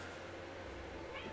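A house cat meows close by in a room, a short plaintive call over a low steady hum, with someone speaking French around it.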